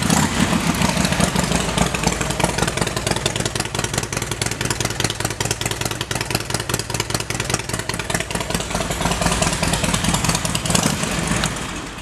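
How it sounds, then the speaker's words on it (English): A 2004 Harley-Davidson Road King with a Vance & Hines exhaust idles loudly and steadily up close, its deep uneven lumpy beat continuous throughout with no talking. "a super nice sounding Vance & Hines exhaust system that you didn't have to pay for or install"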